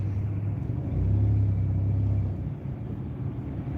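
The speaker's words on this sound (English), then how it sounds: "you can see all the traffic getting tighter and tighter and tighter" Rush-hour freeway traffic makes a low, steady rumble of engines and tires as cars bunch up, with a heavier swell of drone through the middle before it eases slightly.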